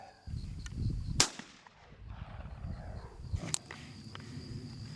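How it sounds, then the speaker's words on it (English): Two sharp, loud blasts from a 12-gauge shotgun recorded for film sound effects, each a hard crack with a decaying tail, spaced a couple of seconds apart over low background rumble. "All right, this is going to be a 12-gauge shotgun"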